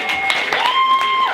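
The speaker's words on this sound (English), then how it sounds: "Give a clap for yourselves." Audience clapping at a live poetry event, a short dense patter of hands across the room with faint whistle-like tones above it.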